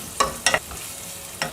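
Finely chopped onions with curry leaves sautéing in oil for a peas gravy, a soft steady sizzle broken by a few sharp scrapes of a spoon stirring the pan, close and quiet with no talk.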